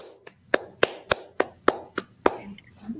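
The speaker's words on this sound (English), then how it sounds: "Let's give a round of applause to welcome Miss Marshall" A single person claps about nine times at a steady, slightly uneven pace, each clap sharp and close, to welcome a guest at an educational program about pets.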